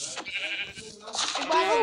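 Sheep bleat near a Bulgarian farmstead, several wavering calls rising toward the end, mixed with people talking nearby.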